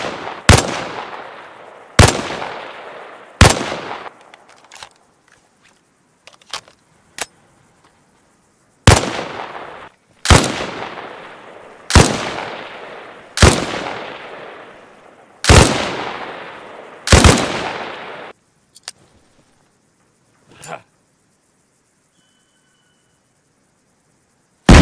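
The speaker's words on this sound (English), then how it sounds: "Aim and fire at the targets." Repeated gunfire at targets in the military video game Arma Reforger, sharp loud shots spaced about every one to two seconds in a steady series, then a few scattered fainter shots and quiet near the end.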